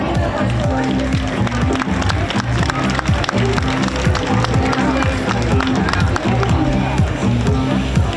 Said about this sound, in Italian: Signori, l'applauso di tutti voi per Andy Bellotti